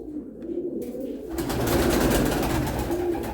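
A healthy pet pigeon or dove indoors gives soft cooing calls, a low murmuring coo repeated over a few seconds, close and moderately loud against a slightly noisy room.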